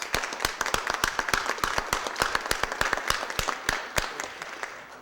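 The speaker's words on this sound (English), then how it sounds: "Let's give them all a big round of applause." Audience applause breaks out across the room, a steady wash of many hands with sharp individual claps standing out, close and fairly loud, fading slightly toward the end.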